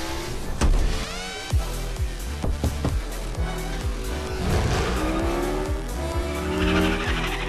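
Rocket League cars race through a Fortnite live event, with screeching tires, skids and revving engines filling the whole stretch. Sharp impacts and bursts of game effects punch through a dense, loud mix.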